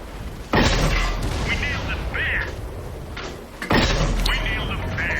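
Jagdpanzer IV tank gun in a video game firing at a KV-1, two heavy booming shots a few seconds apart over continuous engine rumble and battle noise, with a voice talking throughout.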